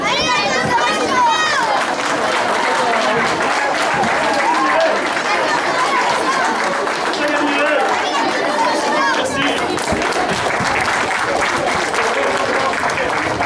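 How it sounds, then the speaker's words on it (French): An audience applauds a karate club at a 2013 Telethon event, sustained dense clapping mixed with crowd chatter and some shouts throughout. "Allez, on les applaudit."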